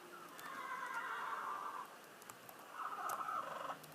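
Horse in the Minecraft Mo' Creatures mod gives two shrill, wavering neighs, one long and a shorter one after a pause, clear against a quiet background.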